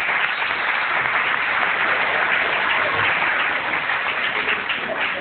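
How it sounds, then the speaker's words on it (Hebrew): A live audience at a comedy show breaks into loud, sustained applause to welcome a performer named Prosper, a dense wash of many clapping hands that holds steady and then tapers off slightly. "בואו נקבל אותו במחיאות כפיים שעות"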